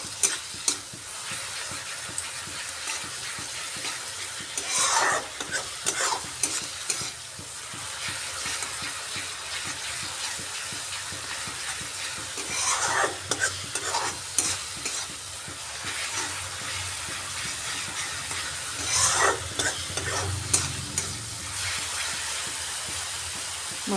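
Spice masala with coriander leaves sizzles in a pan while being stirred for a rohu fish curry, a steady close frying hiss broken by recurring scrapes of the spoon, with no voices.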